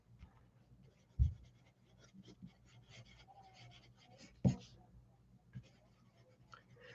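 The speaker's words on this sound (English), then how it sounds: "Let me write that down." Pen scratching on paper while writing something down, soft irregular scribbling strokes with a couple of louder taps or bumps, quiet and close.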